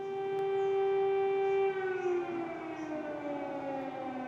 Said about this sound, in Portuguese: Ó, tá aí a sirene, ó.